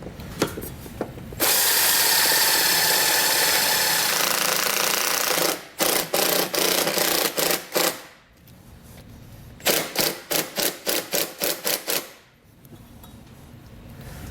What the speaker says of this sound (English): I'm going to take the self-tapping screw and get this secured.